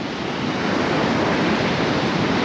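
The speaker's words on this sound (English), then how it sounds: "the sound of the huge rough sea, and the waves are really scary, really dangerous" Rough, heavy sea waves surge at Goa in the off season, a dense unbroken roar of surf mixed with wind rumble on the microphone, loud and constant with no speech.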